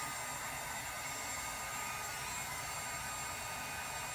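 A hair dryer blows steadily at low heat on a wig being styled with a round brush, a continuous, even whooshing rush throughout with no talk.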